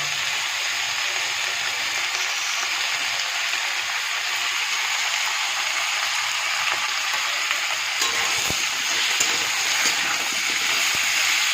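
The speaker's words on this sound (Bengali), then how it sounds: "আলুগুলো তো ভাজা হচ্ছে" Potatoes and onion fry in oil for a kohlrabi curry with small fish, giving a steady, even hiss that stays fairly loud from start to finish. A few sharp clicks come near the end. Nobody speaks.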